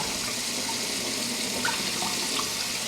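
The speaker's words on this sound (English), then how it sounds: "Now we're just gonna put enough water, just enough to where it can, again, soak it all up" Water pours steadily into a cooking pot, a loud continuous rushing splash heard up close for a few seconds with no talk.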